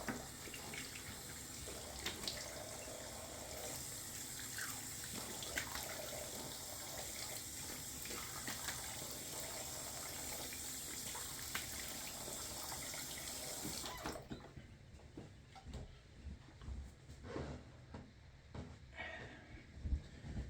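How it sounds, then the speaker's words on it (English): Warm then cold water running from a tap into a sink while a face is rinsed after a shave: a steady, close gushing stream for about fourteen seconds, then the flow stops and leaves quieter splashing and dripping. "Rinsing off with warm water and then cold water."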